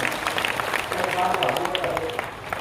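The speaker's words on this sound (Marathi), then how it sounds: "टाळकऱ्यांसाठी जोरदार टाळ्या" A large kirtan crowd applauds the cymbal players with a steady wash of clapping, partly covered by voices talking over it.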